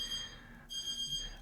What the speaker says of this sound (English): That's the kitchen clock.